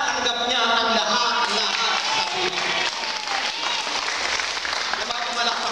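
A church congregation at a Christian group meeting in Hong Kong claps together in a sustained, busy round of applause, mixed with voices and crowd murmur throughout.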